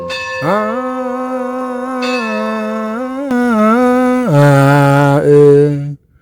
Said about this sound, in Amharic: ደውል